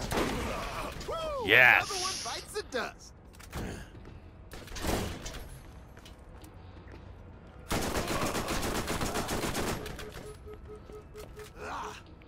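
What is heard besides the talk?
gunfire from Jakobs guns in Borderlands video game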